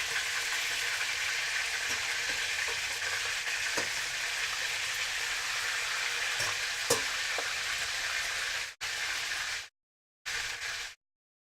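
Meatballs fry in a hot pan with a loud, steady hiss and crackle that runs unbroken, then cuts out abruptly in short gaps near the end.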